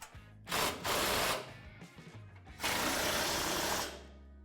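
A tool tightens a bolt on a Ford Raptor suspension bracket during an aFe Sway-A-Way install, with two close, loud, harsh mechanical bursts, the second longer, and no talk.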